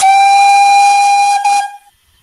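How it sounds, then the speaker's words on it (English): A steam locomotive whistle in a heritage railway video game blows one loud, sustained, steady tone with hiss, then cuts off abruptly and fades to quiet. "But let's whistle."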